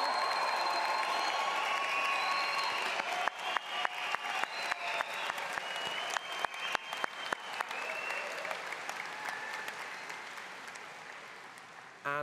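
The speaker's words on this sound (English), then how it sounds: "That is the best clapping, and I'm not joking, I have ever heard." Large graduation ceremony audience applauding steadily in a hall, a dense wash of clapping with distinct sharp claps standing out in the middle before the applause gradually thins and fades.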